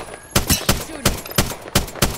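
Apex Legends gunfire in a match: six or seven sharp, loud shots fired at an uneven rhythm over about two seconds, each a bright crack with a short tail, with no voices over them.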